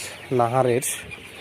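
Sonali colour bird chickens, raised as broilers, give a single short clucking call of roughly half a second, clear and fairly close, with quiet background before and after.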